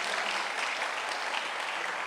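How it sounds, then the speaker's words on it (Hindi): A church congregation breaks into loud applause after a sermon on pride, a dense, continuous clapping that fills the short moment without any voices. "जोरदार ताली।"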